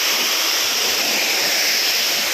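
A waterfall near a village in Ratnagiri pours in a dense, steady roar of rushing water, loud and close, unbroken from start to finish with no voices.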